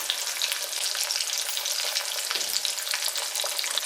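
Silver belly fish fry in hot oil in a small wok, giving a steady, dense sizzle and crackle with no pauses and no voices.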